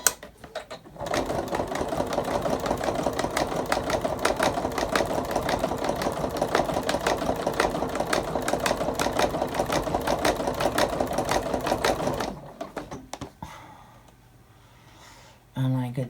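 A sewing machine runs steadily for about eleven seconds, stitching a laptop bag diagonally across to a corner, then stops; a brief faint mechanical sound follows.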